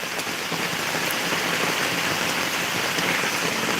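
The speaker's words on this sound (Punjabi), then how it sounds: "ਮੀਂਹ ਤੇਜ਼ ਆ ਜ਼ਿਆਦਾ ਤੇਜ਼ ਆ" Heavy rain pours steadily over a village in Dhotian, a dense, unbroken hiss of drops striking surfaces with no pauses, loud and close.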